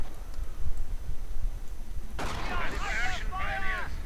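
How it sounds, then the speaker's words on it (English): Sniper rifle fire picking off grenadiers in a World War II real-time strategy game, a sudden sharp crack followed by a burst of rattling shots and ricochet-like whines, set against low battle ambience. "Grenadiers getting sniped."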